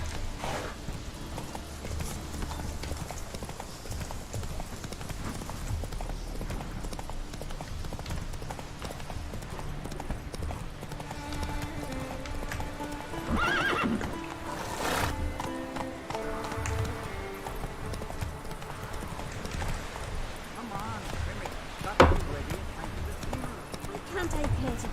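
Roach, the horse in the Witcher 3 video game, trots with steady clip-clop hoofbeats throughout, and a brief louder moment near the end may be a snort or whinny, all mixed under ongoing game sound and talking.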